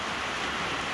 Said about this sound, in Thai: วันนี้กกอกฝนตกครับผม